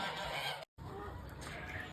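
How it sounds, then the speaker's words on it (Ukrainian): Geese on a farm honk loudly and continuously at close range, a dense overlapping chorus broken by a brief cut of silence. "Гуси нас зустріли ну дуже гучно, мабуть, чули все село"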